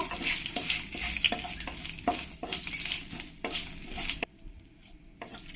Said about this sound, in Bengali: তেজপাতা আর দুটো শুকনো লঙ্কা এগুলোকে একটু আমি ভালো করে ভেজে নেব